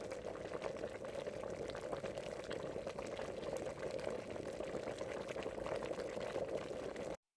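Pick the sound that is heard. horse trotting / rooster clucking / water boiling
water boiling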